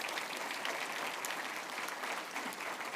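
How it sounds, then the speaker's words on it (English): Audience at an annual membership gathering applauding the catering staff after a dinner; continuous, moderately distant clapping from a sizable crowd with no voices over it. "if we can give them a round of applause"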